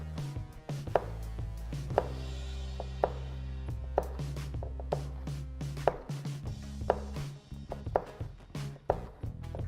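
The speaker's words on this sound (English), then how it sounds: "by cutting that squid tube straight down, we get nice rings for cooking" Kitchen knife slicing a squid tube straight down into rings on a cutting board, a steady series of crisp close chops at roughly one-second intervals, alone with no talking.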